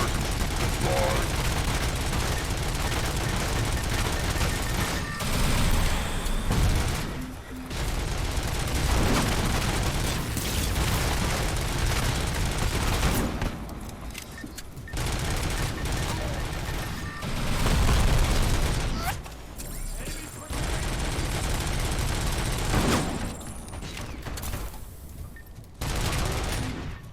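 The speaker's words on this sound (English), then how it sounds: "Damn sniper was trying to shoot me from behind." Sustained rapid gunfire and sniper shots in Robocop: Rogue City, loud bursts of automatic fire and booms filling the scene almost continuously, with short lulls between volleys.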